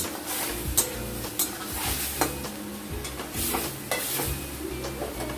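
Ginger, green chilli and mustard paste frying in a pan for a banana chorchori, steady sizzling with repeated rhythmic scraping strokes of a spatula against the pan, close and clear with no talking.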